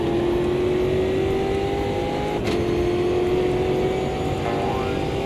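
A race car engine in a sim racing game holds a steady high drone with rising and falling pitch as it shifts, loud and continuous throughout, with a brief sharp click midway.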